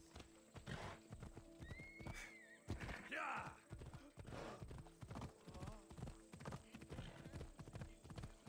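Rapid rhythmic hoofbeats of a galloping horse in Assassin's Creed Odyssey, with a horse whinnying partway through and some clattering game-like effects around it.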